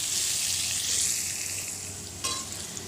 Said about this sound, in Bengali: সেই আলুটা কিন্তু আমি একটু ভেজে নিচ্ছি নুন হলুদ দিয়ে